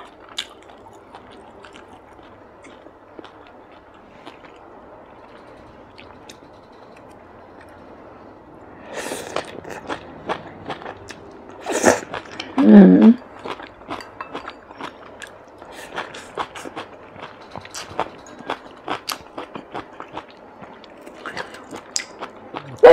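Close-up crunchy bites and wet chewing on crispy fried catfish fat, a few louder crisp crunches standing out over quiet background.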